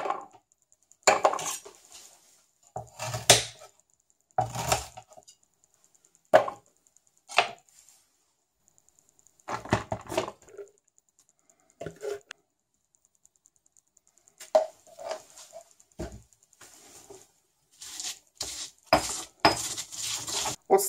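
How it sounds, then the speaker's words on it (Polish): Ginger and garlic being finely chopped with a knife on a board, then mashed into a paste with a little salt: bursts of close knife taps and scraping, separated by brief pauses, with no talk. "W pierwszej kolejności imbir i czosnek drobno siekamy, a następnie rozetrzemy z odrobiną soli na pastę."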